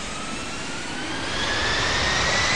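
A Malaysia Airlines jet's engines in the Infinite Flight Simulator game produce a steady, loud roar and whine that swells gradually in strength, heard alone without talk.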